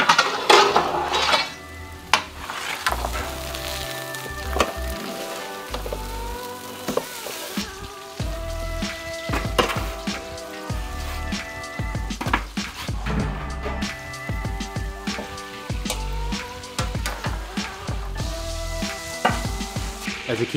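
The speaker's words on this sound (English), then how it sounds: "You just got the sizzling of this lamb fat" Steady sizzling of lamb fat on a hot kebab grill, with occasional clinks of metal utensils and trays, close and continuous throughout.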